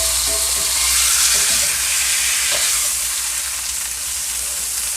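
Beef for a pot roast browns in a pan alongside onions, making a loud, continuous close sizzle that stays even for the whole stretch with a few faint clinks.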